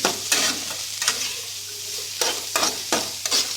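Snake gourd frying in oil for a tomato curry, a steady close sizzle broken by several sharp scraping stirs of a spatula at irregular intervals.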